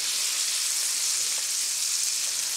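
Moose meat steaks fry in a pan with a steady, close, bright sizzle that stays even from start to finish, with no talking.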